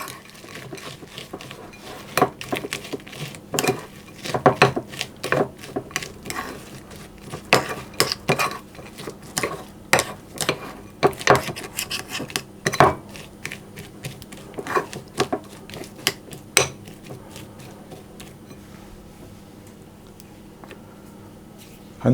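A spoon scrapes and taps around a bowl as apple fudge cake batter with almonds is mixed. The strokes come in irregular clusters of light clinks and scrapes, close and quiet, then fade out toward the end.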